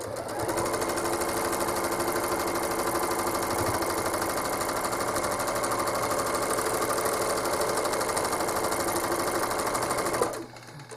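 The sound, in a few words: home sewing machine quilting swirls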